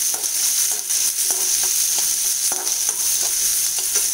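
Chopped onions frying in a pan for wheat rava upma, a loud continuous sizzle punctuated by rhythmic scrapes and taps of a ladle stirring, with no voices.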